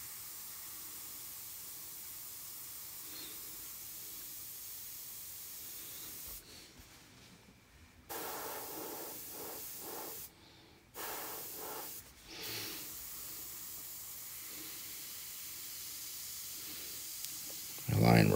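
Vintage Paasche airbrush spraying a fine mist of paint, a soft steady hiss with several brief pauses and bursts as the trigger is worked, fairly close and quiet, no talking.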